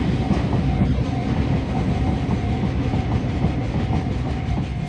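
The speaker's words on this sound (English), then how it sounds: "I was in a hurry to take this picture because a cargo train was just coming." A cargo train carrying oil passes on the Takashima line near a 1930s bridge with a loud continuous rumble and faint rhythmic wheel clatter. A thin high whine runs through the steady roar, with no voices.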